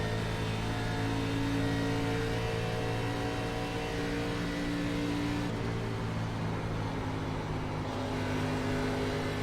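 Race car engine in a video game, lapping Charlotte Motor Speedway in the ARCA Menards series, a steady loud high-revving drone with harmonic tones that shift slightly partway through, continuous with no talk.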